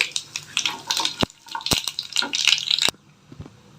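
Cumin and mustard seeds drop into hot oil for a pumpkin dish and crackle and sizzle up close, broken by several sharp pops and clicks, before the sound cuts out abruptly and leaves faint background noise.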